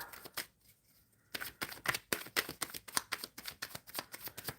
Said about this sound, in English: shuffling for the collective.